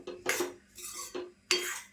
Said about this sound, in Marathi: पीठ व्यवस्थित मस्त असं भाजून घ्यायचं